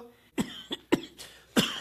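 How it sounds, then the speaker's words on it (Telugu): A man coughs on stage during a Telugu drama performance, giving several short, close, dry coughs in quick succession with brief gaps between them. "అదిగో అదిగో అదిగో దగ్గుతున్నారు చూడండి."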